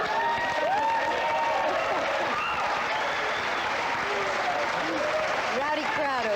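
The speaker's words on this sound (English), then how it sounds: "Rowdy crowd over there." A rowdy studio audience on the 1980 television talk show Dinah and Friends applauds and cheers loudly, with sustained clapping and whooping voices rising over it.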